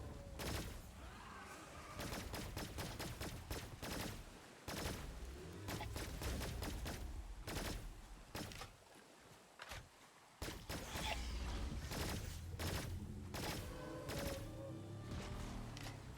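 Rapid bursts of weapon fire from the sci-fi game Cygnus Enterprises, dense volleys of shots with short pauses between strings, loud and continuous through most of the stretch.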